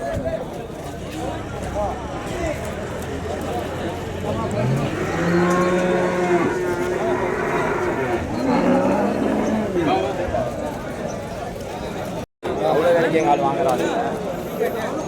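Cows and calves moo repeatedly at the Vaniyambadi cattle market, long low calls rising over a crowded outdoor murmur of people talking nearby.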